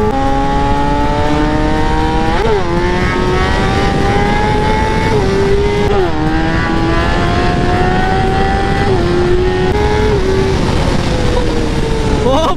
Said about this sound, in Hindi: कुछ ज्यादा ही भाई तेज थी भाई बाइक